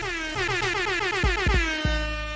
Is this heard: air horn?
yes